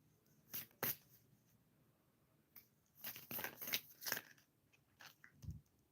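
A deck of tarot cards is shuffled on a lap in short, close, quiet bursts of riffling and crisp flicking, with pauses between them and no talking.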